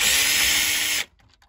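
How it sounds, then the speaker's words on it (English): A power driver whines loudly and steadily for about a second while backing Torx screws out of interior trim on a Mercedes Sprinter camper van, then cuts off abruptly into quiet. "I'm just going to go around now and remove all of the Torx bits"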